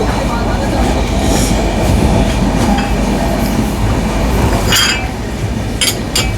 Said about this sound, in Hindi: थोड़े से कॉशन के साथ फरीदाबाद स्किप कर रही है हमारी गाड़ी अभी।